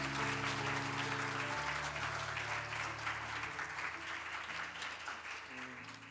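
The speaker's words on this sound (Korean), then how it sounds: "큰 박수로 한번 맞아 주시기 바랍니다" A church congregation applauds to welcome a guest pastor before a Sunday service sermon. The clapping is soft and distant and runs steadily throughout, with low organ or keyboard tones sustained beneath it.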